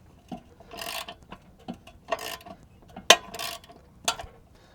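A wrench tightens lock nuts on a Lonestar Grillz offset smoker, giving a series of sharp metallic clicks and ratcheting bursts, irregular and close, with quiet gaps between them and no talk.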